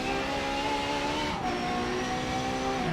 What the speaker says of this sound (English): flooring it for the straight